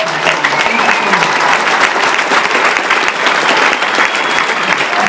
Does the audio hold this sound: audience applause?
yes